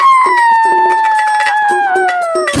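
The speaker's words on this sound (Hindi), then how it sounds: "ये देख आदतवश वो लोमड़ भी लोमड़ियों के सुर में सुर मिलाकर चिल्लाने लगा।" A fox in an animated children's story howls along with a pack of foxes, a loud, sustained wavering cry that slowly falls in pitch, with short yelps and calls from others around it.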